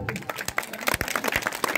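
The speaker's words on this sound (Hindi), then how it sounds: "एक बार इनके सम्मान में एक बार जोरदार ताली।" Loud clapping from an audience at an award ceremony honouring children in a Haryana village, a dense burst of hand claps filling the whole moment with no clear talk over it.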